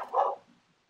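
A dog gives a single short bark nearby, moderately loud and alone, fading quickly into quiet.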